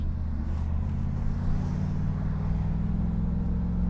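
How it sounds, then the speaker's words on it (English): A 5-liter V8 in a Camaro idles and runs steadily at part throttle after a misfire repair, a loud, even low rumble that stays constant throughout with no talking. "I'm gonna enjoy the sweet noise of a 5-liter V8"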